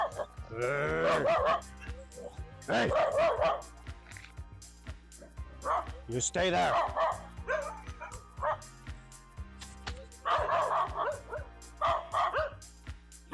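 Several dogs bark and yip in sharp bursts close by, with some whimpering, while a man calls out to them now and then.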